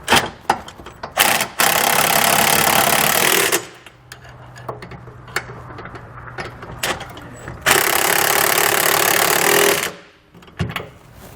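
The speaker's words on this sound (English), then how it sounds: "we can go back and tighten these down using a 19mm socket and wrench." A 19mm socket and wrench tightening bolts on a hidden hitch receiver under a 2020 Jeep Grand Cherokee gives loud, buzzing stretches of powered fastening, broken by pauses with faint clicks and clatter.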